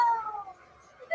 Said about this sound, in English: They know that their minute's up when they hear the sound of a kitty.